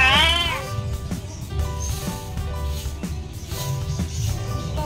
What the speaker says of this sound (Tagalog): itong isang malaking pusa na ito.